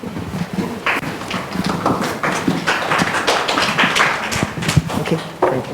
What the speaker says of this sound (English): Please give your applause to welcome back all our speakers on stage